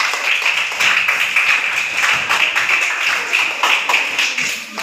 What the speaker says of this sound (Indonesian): Jadi tepuk tangan untuk kita semuanya.